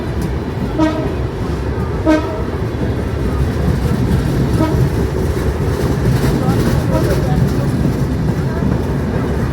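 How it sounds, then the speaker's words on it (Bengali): A train pulls into Narail railway station, sounding two short horn blasts near the start over a steady rumble of wheels and carriages, with a busy crowd murmuring on the platform. "সেই কাঙ্ক্ষিত ট্রেন আমাদের মাঝে হাজির হয়েছে।"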